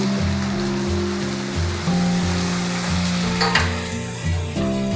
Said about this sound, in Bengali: মশলাটা দিয়ে এবার এটাকে কিছুক্ষণ আমি কষে নেব।